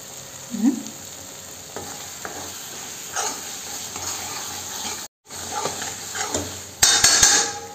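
Mutton masala sautés in hot oil in a pan, with a steady close sizzle and stirring scrapes throughout, broken by a brief silent gap and a few sharp clatters toward the end.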